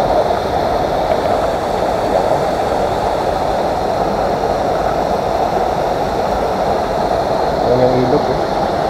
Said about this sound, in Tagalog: Yan yung ilog eh.